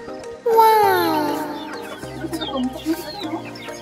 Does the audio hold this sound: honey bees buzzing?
no